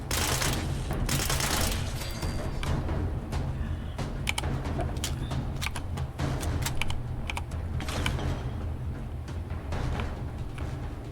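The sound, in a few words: gunfire in the video game Fallout 76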